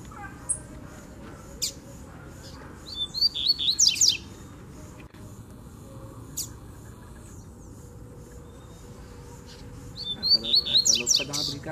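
A free-flying double-collared seedeater sings in two short bursts of bright, rapid chirping and trilling, with a faint insect hum and soft background noise in between.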